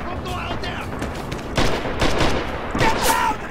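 Enemy gunfire rattles in a Red Orchestra 2 multiplayer battle, rapid bursts and scattered shots crackling close and far amid shouted voices.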